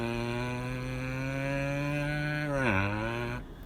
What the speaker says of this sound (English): this one's called the motorbike frog